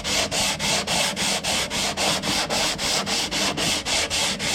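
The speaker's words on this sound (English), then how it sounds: "it still has to be sanded" A piece of wooden pallet being sanded for a cat scratching post, a steady, rhythmic rasping with evenly spaced strokes, close and moderately loud, with no voices.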